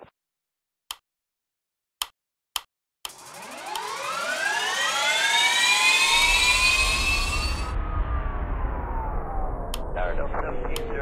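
Jet airliner engines spool up for takeoff in the Airline Commander game, a rising whine and roar that swells from silence after a few sharp clicks, holds loud and steady, then thins slightly near the end.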